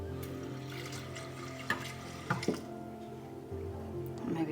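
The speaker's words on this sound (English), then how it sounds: "And then just enough water to cover." Water is poured into a pot of lentils for a South Indian banana flower curry, a close trickle with a few distinct splashes and drips that swell again at the end.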